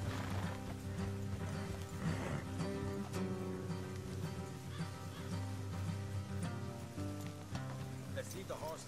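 Horses in the Western video game Red Dead Redemption 2, clip-clopping hooves with an occasional whinny, faint under a steady layer of music throughout.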